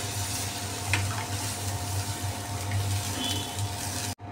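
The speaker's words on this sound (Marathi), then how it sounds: "आता आपण त्यात आपल्या आवश्यकतेनुसार पाणी घालू" Masala frying in a pan for masala bhendi hisses and sizzles steadily as it is stirred with water, a close continuous crackle with small bubbling bursts and no voices.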